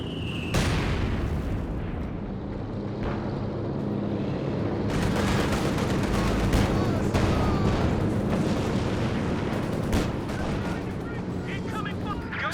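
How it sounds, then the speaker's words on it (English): A Stuka anti-tank rocket strafe in a WWII strategy game, a dense barrage of booming rocket impacts and explosions rumbling continuously for several seconds amid battlefield noise, with a voice talking underneath. "Stuka also comes in anti-tank rocket strafe."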